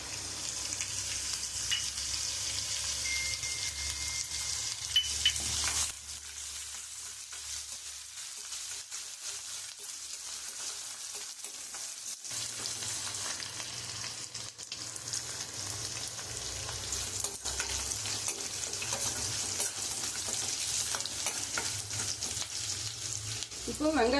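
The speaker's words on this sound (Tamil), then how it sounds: "இப்போ பூண்டு சேர்த்துக்கலாம். இஞ்சியும் பச்சை மிளகாயும் சேர்த்துக்கலாம்." Garlic, ginger and green chilies frying in hot oil for a South Indian poori masala, a continuous close sizzle with stirring that briefly drops away mid-way before the frying noise returns.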